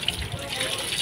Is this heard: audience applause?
no